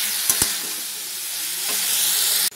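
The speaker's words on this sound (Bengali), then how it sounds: "এ দেখুন, আমরা এটা ভালো করে কষাচ্ছি।" Rajma and potatoes stir-fried in a pan, a loud steady hiss of sizzling with a couple of sharp utensil knocks near the start and another scrape later before the sound cuts off.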